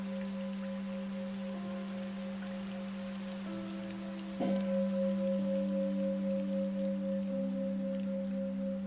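Soft, steady rain patters at a Buddhist meditation hall in Asheville on a spring morning, under sustained humming tones that shift pitch partway through. The sound is quiet and continuous, with no voices.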